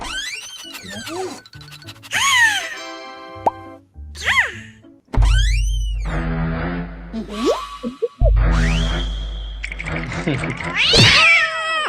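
A series of cat-like meows and yowls, some short and some drawn out, comes in bursts with pauses between them, mixed with plopping sounds and a voice talking.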